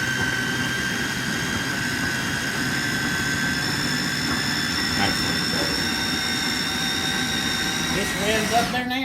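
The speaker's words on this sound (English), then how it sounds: "how many people does it take to use the Actually, food I find this processor?" A food processor runs in a home kitchen during sour orange pie preparation, giving a steady loud motor whine and drone throughout, with a brief spoken word near the end.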